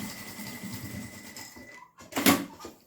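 A sewing machine runs a few quick stitches through a fabric zip pouch with its lining, a short soft whirring run that ends in a brief louder mechanical burst.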